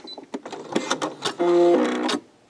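Sewing machine stitching along the edges of a quilted fabric key fob, with short clicks and taps leading into a sustained, loud motor whir lasting under a second before stopping.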